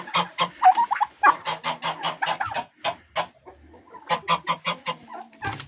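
A young turkey hen calling on a farm, a close series of short rhythmic clucks and chirping yelps in quick bursts with brief pauses, loud and alone.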